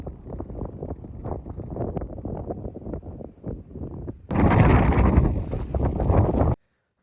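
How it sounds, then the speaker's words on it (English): Wind on the open Colchester Causeway rumbles against the microphone, then a harder gust hits abruptly and roars loudly for a couple of seconds before cutting off. "It's pretty windy just on the causeway"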